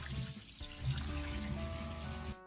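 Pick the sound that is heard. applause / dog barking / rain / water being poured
water being poured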